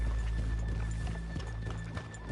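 Horses in the Red Dead Redemption 2 video game, hooves clip-clopping at a steady walking pace on a town street, fairly faint, with a soft snort or whinny and no talking.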